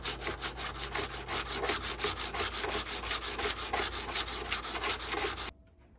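A Stanley wood chisel's bevel is ground down in quick, even rasping strokes, about four per second, close and fairly loud, then it stops abruptly.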